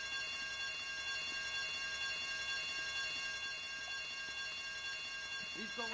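A continuous electronic alarm rings steadily and loudly during a bank robbery in the video game GTA Vice City, a dense unbroken tone with faint rumbling underneath and no speech.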